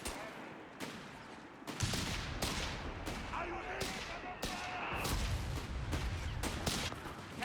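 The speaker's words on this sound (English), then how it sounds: "those mortar shells coming through, trying to dodge preemptively a little bit" Mortar shells burst one after another in a Company of Heroes 3 multiplayer battle, a dense run of sharp blasts and crackling gunfire at an irregular rhythm, loud and close, with no voices.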